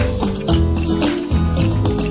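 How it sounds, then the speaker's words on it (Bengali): Chopped chicken rinsed under a running tap, a steady loud gush of water with irregular splashes as the pieces are handled. "এবার মাংসটা একটু ধুয়ে নেব"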